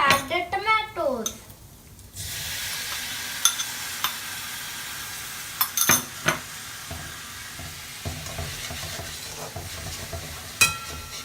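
Onions stirred in a pan for paneer bhurji, a spoon scraping and clinking against the metal with a faint sizzle underneath; a voice talks at the start, and sharp utensil knocks recur at intervals.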